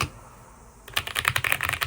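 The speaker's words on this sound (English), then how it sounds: "This is my fancy keyboard that Ash got me for Christmas." Someone types on a fancy light-up computer keyboard. After a quiet moment, rapid clicking keystrokes come in a close, uneven patter.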